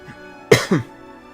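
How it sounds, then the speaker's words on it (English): Two sharp coughs in quick succession, close and loud, the first stronger than the second, with quiet room tone around them. "That cough like registered really loud there on the thing"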